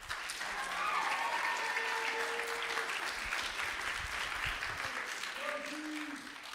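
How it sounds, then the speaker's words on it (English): Sustained audience applause at a summer bash event, a steady wash of clapping hands from a crowd that stays loud and even throughout, with a few faint voices mixed underneath. "Can we give all of them a round of applause?"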